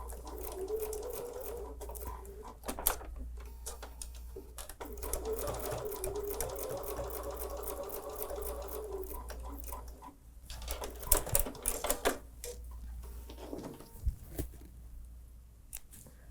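Sewing machine stitching a quarter-inch quilting seam slowly, with short bursts of rapid needle clatter, pauses and small handling clicks over a low steady hum, fairly quiet and close.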